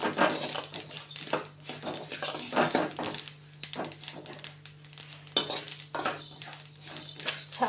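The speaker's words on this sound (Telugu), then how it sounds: "వింటున్నారా ఎలా ఆడుతున్నాయో ఇన్నట్లయితే ఏం ఆయిల్ ఏం అవసరం లేదు ఫ్రెండ్స్" Black sesame seeds dry roasting in a pan without oil, crackling and popping in close, irregular bursts over a steady low hum.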